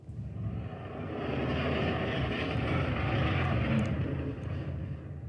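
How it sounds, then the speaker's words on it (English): A distant motorbike engine rumbles steadily throughout, a broad, continuous drone that swells slightly in the middle and stays far off, with no talking. "That's a distant motorbike."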